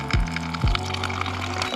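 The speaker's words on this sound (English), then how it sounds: "The thing here is my water pump. It's just a battery rechargeable pump from Amazon, real cheap." A cheap battery-powered rechargeable water pump, bought online, runs steadily in a small Ford Transit Connect camper van, giving a continuous close hum with two brief low swells as it pushes water up a tube from a jug.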